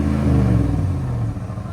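A 2023 Ram 1500 with the 5.7L Hemi E-Torque V8 and a Magnaflow cat-back exhaust gives a loud, deep rumbling burble up close, steady for a moment before it eases slightly.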